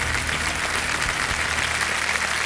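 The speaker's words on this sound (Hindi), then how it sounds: "तालियां बज जाएं इनके लिए" Studio audience applause on a quiz show set, cheering a contestant who has just quit with winnings: loud, dense, continuous clapping filling the whole moment without speech.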